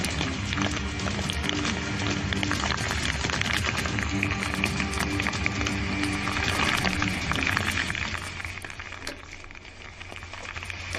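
Heavy rain pours onto city streets in Hyderabad as a dense, continuous hiss of patter that thins a little near the end.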